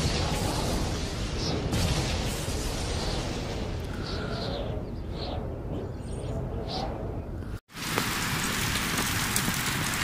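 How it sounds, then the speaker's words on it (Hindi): Rain falls on a village during a thunderstorm, a dense, steady hiss of drops on surfaces with faint bird calls. The sound cuts out for a moment before the downpour resumes. "आज जाके बारिश आई है, वो भी हल्की फुल्की"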